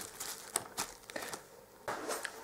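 A plastic AliExpress parcel bag crinkles and rustles in several short bursts, fairly close and moderately quiet, with no talking.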